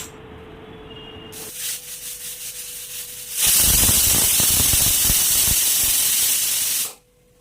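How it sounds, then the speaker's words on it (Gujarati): A pressure cooker whistle on a gas stove, holding Jain masala puri ingredients, releases steam. A softer hiss gives way to a loud, sustained rushing whistle lasting several seconds, then it stops abruptly. "કુકરને બંધ કરીને ગેસ પર મૂકી દઈશું અને એક સીટી વગાડશું"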